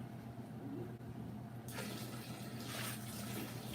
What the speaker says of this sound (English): I'm gonna pour a little bit of this water out.